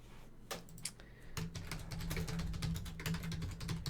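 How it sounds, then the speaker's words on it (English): Rapid typing on a computer keyboard, close and crisp, a steady stream of clicks with a low hum underneath. "And I'm typing it right now in the comments section for you."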